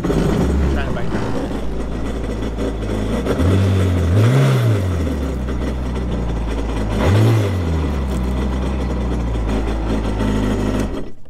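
A jet ski engine runs on its trailer to blow water out, revving up twice in strong surges over a steady droning idle before cutting off abruptly at the end.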